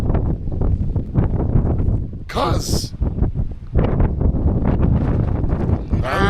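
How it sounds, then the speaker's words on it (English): Strong wind buffets the microphone on an exposed mountainside beside a drop, with low rumbling gusts running under close, continuous talking and a brief sharp noise burst partway through. "And it's full windy."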